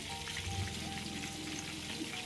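Steady, dense sizzling and crackling of fermented fish frying in hot oil in a pan, close and continuous with no voices over it.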